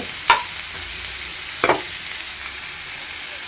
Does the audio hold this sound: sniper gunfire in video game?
no